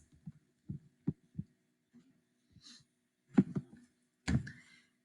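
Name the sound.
heartbeat sound effect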